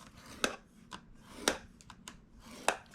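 Paper being scored at half-inch intervals with a tool for a scrap-paper rosette, heard as four sharp scraping strokes spaced about a second apart, close and fairly quiet with no talking.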